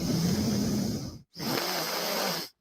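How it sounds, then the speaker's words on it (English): A congested man exhales forcefully through his nose in two long, close, hissing breaths, the second after a brief pause, loud and alone. "breathing out of his nose"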